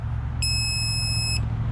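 A single high-pitched electronic beep from a Harbor Freight 3/8-inch digital torque wrench, lasting about a second, sounding over a low background hum.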